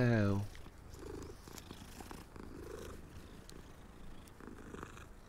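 A cat purrs in Hogwarts Legacy, a soft low rumble that continues steadily under game ambience after a brief louder sound at the start.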